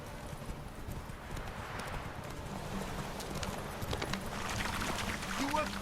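Geralt's horse Roach gallops in The Witcher 3 video game, a quiet, rapid, continuous clip-clop of hooves running throughout, with voices speaking over it.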